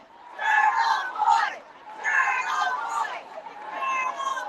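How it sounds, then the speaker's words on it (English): A crowd gathered outside a courthouse shouts and cheers in rising and falling waves, excited voices blending into a loud, ragged chant-like roar with brief lulls between bursts. "Look at this crowd out front."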